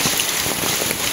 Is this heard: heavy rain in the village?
yes